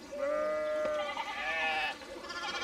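Sheep in the video game Pentiment bleat in a farmyard, several wavering calls in a row, clear and close with no talking.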